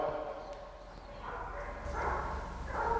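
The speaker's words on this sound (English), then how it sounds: "a f***ing yapping dog" A small dog yaps a few times in the distance, its sharp barks rising over a low background hum, with faint voices nearby.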